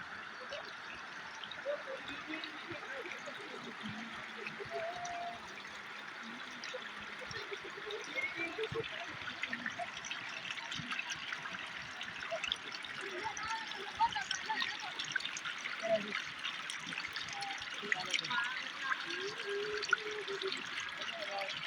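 Cold water of the Pulangi river flowing and trickling, a soft continuous stream of burbling and splashing heard close by, faint and steady throughout.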